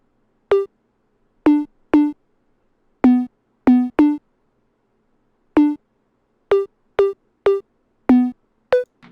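An 808 bass pattern pitched up a couple of octaves rings out as short, bright, tonal blips in a syncopated rhythm with gaps of silence, clear and alone.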